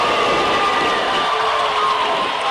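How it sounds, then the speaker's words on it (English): Excited Risco basketball crowd at a tournament final, a dense, loud roar of cheering and shouting voices filling the gym without a break. "Good crowd on hand. Good, excited Risco crowd here."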